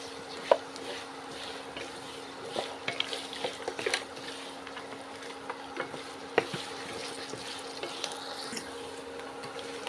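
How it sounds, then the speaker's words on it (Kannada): Spices and turmeric sizzle and crackle in hot oil for tempering with a steady hiss, broken by occasional clinks of a spoon against the pan. "ಇದಾಗಿದೆ ಒಗ್ಗರಣೆ, ಚೆನ್ನಾಗಿ ಎಲ್ಲ ಒಂದೇ ಸಮಕ್ಕೆ ಫ್ರೈ ಆಗಿದೆ."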